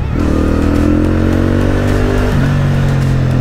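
A Benda Napoleon 450 motorcycle accelerates on a test ride, its engine note loud and close, holding a rising drone before a gear change drops the pitch and it pulls on steadily.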